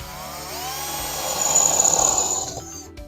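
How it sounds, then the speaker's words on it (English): A power drill bores into an old plaster wall in a boarding house, a close whining whir that rises in pitch and intensity as the bit bites in, then stops abruptly. "so I'm going to drill 6 holes right here,"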